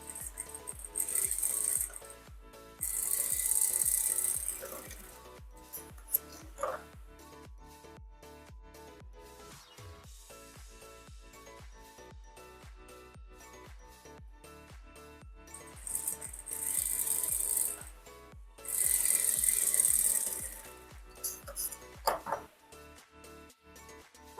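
An industrial stitching machine sewing fabric in a fashion studio, loud bursts of rapid mechanical whirring and clatter that start and stop several times, with quieter handling noise between runs.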